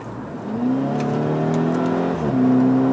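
A Volkswagen Scirocco 2.0 TSI revs up, its engine note rising and holding steady, dipping briefly before climbing again. Exhaust pops and bangs are not clearly distinguishable.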